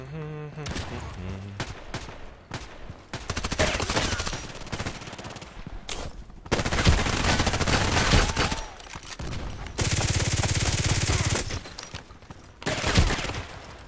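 Bursts of video game gunfire, including an MP5 submachine gun, fired near a shipping container in a shooter match, with rapid repeated volleys and loud sustained runs of automatic fire between short pauses.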